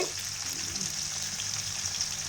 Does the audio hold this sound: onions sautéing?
yes